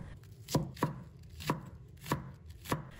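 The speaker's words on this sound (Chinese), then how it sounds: "然后改刀切成葱花" A kitchen knife slices green onion into small pieces on a cutting board, six crisp, separate chops at an uneven, unhurried pace, close and clear with no talking.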